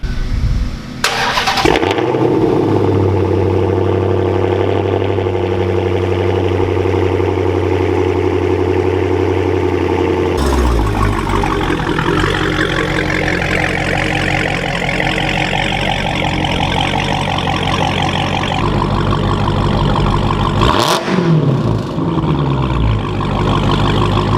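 A Dodge Challenger Hellcat's engine starts with a sharp burst, settles into a loud, deep idle, then rises and rumbles as the car creeps into a garage, with no talk over it.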